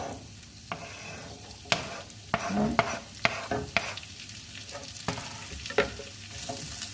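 Garlic frying in oil in a pan for Spanish tortilla, a soft steady sizzle with repeated sharp spoon taps and scrapes against the pan at irregular intervals, close and clear.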